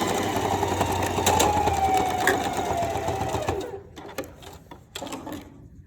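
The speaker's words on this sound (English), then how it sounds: "Straight stitch." A sewing machine runs a straight stitch on stretchy fabric for a one-piece outfit, with a bobbin that keeps tripping. It whirs steadily and close for about three and a half seconds, then stops, followed by scattered clicks and fabric handling.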